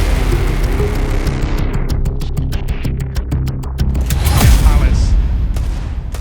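A Desert Eagle pistol shot in a Counter-Strike match at Austin 2025: a rapid run of sharp cracks early on, then a heavier boom near the end, all over a dense low rumble with a commentator talking throughout.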